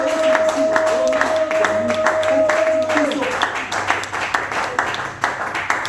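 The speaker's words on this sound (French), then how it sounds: "Nous applaudissons pour la présence de Seigneur" A church congregation claps in praise during a French and Lingala sermon, with quick, rhythmic hand claps that keep a beat under a sustained sung or played tone and occasional voices.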